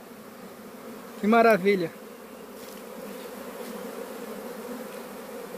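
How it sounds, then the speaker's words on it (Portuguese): Honeybees from a swarm settle into a wooden hive box outdoors; one loud, close buzz rises for under a second, then a faint, steady insect hum carries on in the background while a voice briefly exclaims. "O enxame descendo aqui, ó, na caixa."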